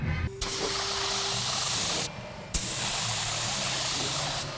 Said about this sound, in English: I spray paint this anyway